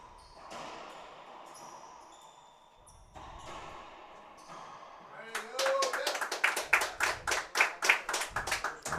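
Live crowd claps in rapid bursts at a professional pickleball singles semifinal at the Vero Beach Open, the applause swelling into a loud, rhythmic run of sharp claps after a quieter stretch of court ambience.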